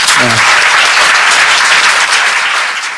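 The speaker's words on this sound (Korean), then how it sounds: "이분한테 좀 박수 좀 부탁드립니다." Audience applause at a lecture on the Sewol ferry sinking: a dense, loud, steady clapping wash lasting about three seconds and tapering slightly at the end, with a brief voice at the very start.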